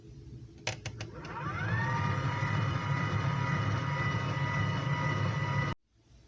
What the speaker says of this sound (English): Okay, I'm finished blending.